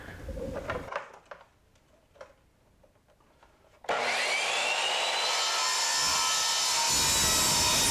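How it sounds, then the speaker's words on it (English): A pair of skis being cut to length for a pulk sled conversion: a few faint scraping strokes at first, then a loud, continuous power-saw roar that runs steadily for the last four seconds. "a quick transfer of measurement to the other ski will allow me to cut them both the same length"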